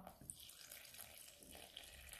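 Water is poured into a bowl of salted flour to make batter, a faint, continuous splashing trickle that runs steadily from start to finish.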